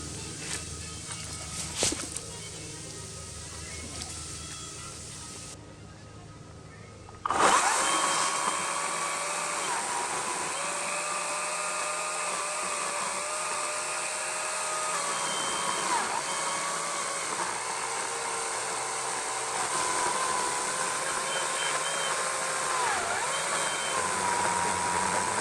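A Ryobi 40V 20-inch electric chainsaw cuts into a tree. After a brief quieter stretch, a loud steady whine starts and holds for some twenty seconds, rising and dipping slightly as the blade meets the wood.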